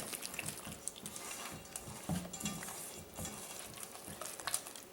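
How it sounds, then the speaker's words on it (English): Beef broth is stirred into a coconut and almond flour cornbread batter, a soft, wet patter of spoon-on-bowl scraping and squelching that continues steadily, faint and close, with a few sharper knocks. "And then we're just going to stir it up."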